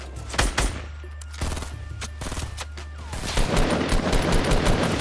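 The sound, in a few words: gunfire in the video game Fortnite Battle Royale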